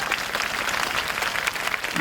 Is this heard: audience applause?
yes